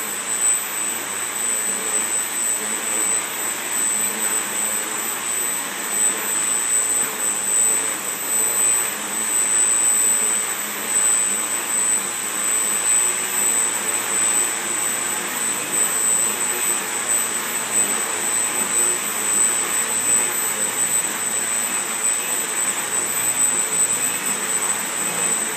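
Homemade quadcopter motors and propellers whine steadily in an unstable flight attempt, a loud, continuous, high-pitched electric buzz with an airy rushing wash that holds nearly even throughout.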